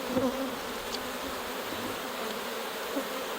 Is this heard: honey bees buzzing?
yes